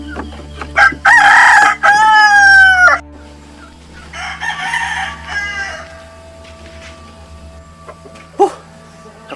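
A rooster crows loudly and close, one long strained call followed by shorter cackling and clucking bursts, with quieter fowl sounds and a sharp squawk later over a low steady hum.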